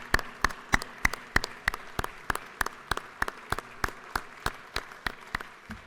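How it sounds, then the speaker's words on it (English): Slow, evenly spaced claps, each sharp and distinct, repeating in a steady rhythm over a soft background of scattered clapping in the Georgia House of Representatives chamber. "Everybody, please give them a round of applause."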